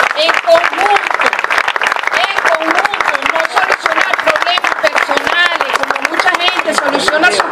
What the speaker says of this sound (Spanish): yo pido un aplauso por todos los que de verdad queremos solucionar este problema en conjunto